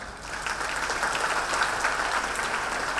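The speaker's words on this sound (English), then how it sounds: "you need to clap." An audience at a Rotary event claps together, a brief, even patter of many hands at moderate volume, steady from start to finish.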